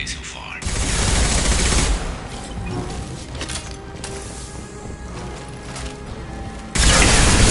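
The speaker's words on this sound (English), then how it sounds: "Taking heavy fire." Gunfire bursts in the Mass Effect 2 video game, loud, dense volleys that swell and fade over several seconds, with a heavy burst returning near the end, mixed with in-game voices.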